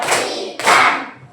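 A class of students claps hands together at a teacher's count in a counted clap pattern, two quick blurred bursts of group clapping close by.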